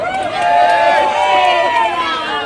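A crowd at a political rally for Senator Bato dela Rosa shouts and cheers loudly and without a break, a dense wash of many raised voices filling the space.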